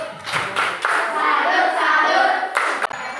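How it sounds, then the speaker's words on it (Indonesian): A class group performs a rhythmic salute clap, with a few sharp accented claps amid a continuous patter of hands lasting about three seconds, close and moderately loud in a classroom. "Oke, kita tepuk salut."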